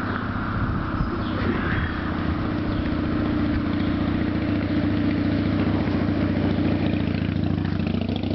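A 1961 Ford Falcon Futura with its original 170 six-cylinder engine and two-speed automatic runs at a steady idle, a constant close, loud mechanical hum with no talking.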